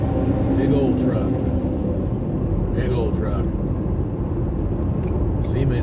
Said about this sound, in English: Cement mixer.